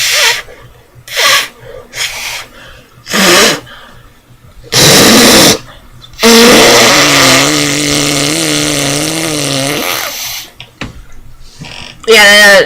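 A person imitates a fart with their mouth, producing a long buzzing raspberry that lasts several seconds, set among short bursts of casual talk and laughter.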